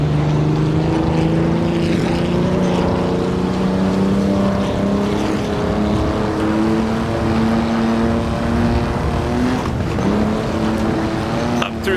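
Simulated 1937 Donington Grand Prix racing car, a pre-war German machine, roaring at full throttle down a straight, its engine note climbing steadily in pitch and staying loud and close throughout with no talk.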